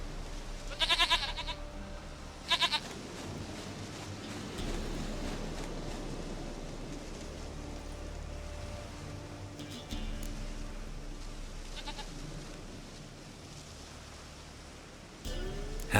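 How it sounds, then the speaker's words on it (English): Goat in the video game The Witcher 3: Wild Hunt, two short bleats near the start over a low game ambience with rustling, then another brief bleat near the end. "Goat of mine, dearest, sweetest goat."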